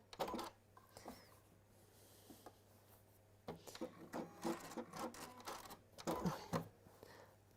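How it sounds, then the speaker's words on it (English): A sewing machine runs in short bursts of rapid mechanical stitching, with clicks and handling noise between runs and a low steady hum underneath. "So come back to the sewing machine with me."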